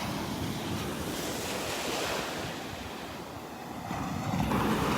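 Gulf of Mexico surf on a beach in North Naples, Florida, under calm seas before a tropical storm: a continuous broadband wash of waves mixed with steady wind rumble against the microphone, with no voices.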